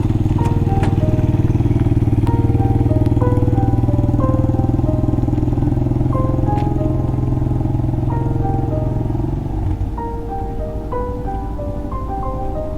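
A motorcycle engine idles steadily after being started to recharge a drained battery on an offroad trip in the Phandar valley, a loud close continuous chugging that drops in level near the end, with faint higher mechanical ticks.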